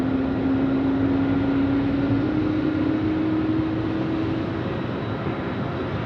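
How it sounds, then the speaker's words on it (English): Airbus A350 jet engines spooling up at Melbourne airport at night: a steady, loud roar with a tonal whine that climbs slowly in pitch and holds, continuous with no voices. "we're also featuring the A350 spool up as well"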